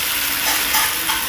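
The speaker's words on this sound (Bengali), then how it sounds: "একইভাবে আমি আলুগুলোকে নেড়ে চেড়ে ভেজে" Potatoes fry in oil in a wok while being stirred, a brief steady loud sizzle with faint scraping movement.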